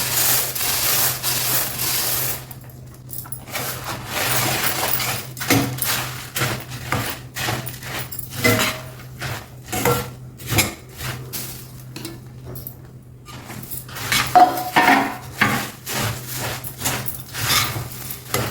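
A spoon stirs puffed rice into thick jaggery syrup in a metal pan to make laddus. The scraping and rustling strokes are steady and close and carry on throughout, with a faint hum underneath.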